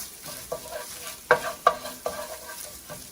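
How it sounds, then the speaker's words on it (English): Desiccated coconut shallow frying in a pan over medium heat, with a soft steady sizzle broken by a few sharp stirring scrapes and taps, close and moderately quiet, no talking. "We're just going to lightly shallow fry"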